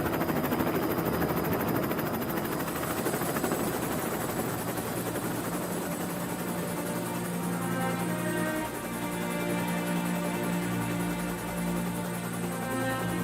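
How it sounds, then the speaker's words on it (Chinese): A helicopter lifts off in the Arctic, its rotor and engine roaring loud and steady at close range, with a constant whine and no voices. "螺旋桨的声音响起"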